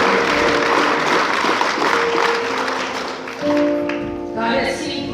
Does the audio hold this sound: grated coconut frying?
no